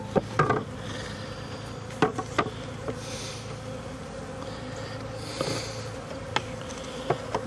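Honeybees from a shipped package crawling and flying out of a bee bus into a horizontal hive, a steady close buzzing hum with scattered knocks and taps from handling the box, no talk.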